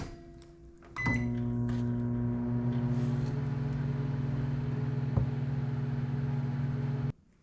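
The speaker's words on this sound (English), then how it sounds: "Gonna stick them in the microwave for a minute at a time to melt them down" A microwave oven runs with a steady low hum for several seconds after a click starts it, melting soft plastic fishing baits, then shuts off abruptly near the end.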